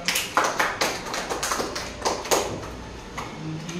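Scattered hand claps from a small class of schoolchildren in a classroom, uneven and overlapping for a few seconds, fairly close and moderately loud.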